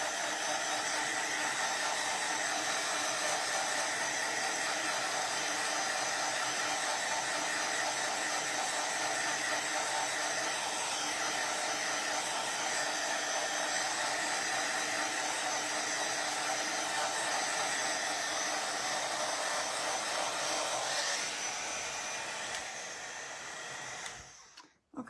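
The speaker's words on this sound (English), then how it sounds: "Listening to the dryer go." A hair dryer blows steadily at close range while drying a craft piece, a constant loud whoosh that runs unbroken for over twenty seconds before cutting off at the end.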